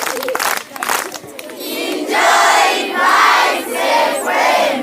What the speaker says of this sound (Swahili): Asante sana, mpigieni makofi.